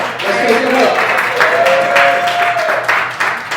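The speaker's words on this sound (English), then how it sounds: "So give him a round of applause" Audience applause greeting a surprise guest at a spoken word event in a recording studio, a dense, loud wash of clapping with a tonal hum or voice running underneath.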